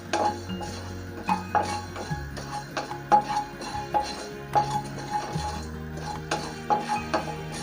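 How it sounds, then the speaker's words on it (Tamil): Dry chillies roast in a pan with no oil, and a utensil stirs them, giving light metallic clinks and scrapes in an irregular rhythm under a soft, steady background. "எண்ணெய் தேவையில்லை, சும்மா லைட்டாக வறுத்துக்குவோம்."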